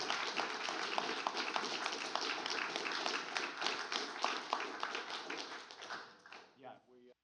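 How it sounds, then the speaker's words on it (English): Sustained audience applause for a panel at a discussion event: dense, even clapping from a crowd that holds steady for about six seconds, then thins and fades out. "Let's have one more round of applause for our illustrious panel."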